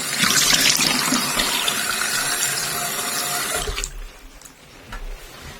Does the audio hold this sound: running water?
yes